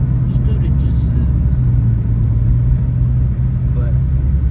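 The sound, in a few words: Cadillac CTS-V car engine driving down the road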